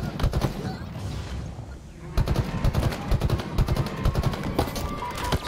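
Rapid automatic gunfire in Halo Infinite, dense bursts of close shots repeating in a fast rhythm, pausing briefly before resuming, loud and continuous with some game sound beneath.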